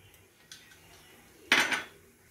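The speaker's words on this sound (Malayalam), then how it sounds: "എനിക്ക് ഉരുളി ഇല്ലാത്തതുകൊണ്ട് ഞാൻ നല്ല തിരിച്ചട്ടി വെക്കുകയാണ്." A heavy pan used in place of a traditional uruli for making fruit payasam lands on the stovetop with one loud metallic clank, after a faint earlier tap, in a quiet kitchen.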